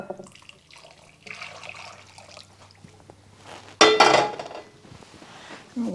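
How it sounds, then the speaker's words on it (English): Boiling water poured into a bowl holding two packs of strawberry jello, a brief splashing gush in the middle after light clinks and handling noises of kitchenware, with quieter dish sounds following. "then I'm going to add in 2 cups of boiling water."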